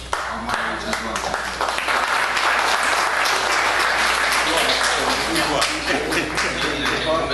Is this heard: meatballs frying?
no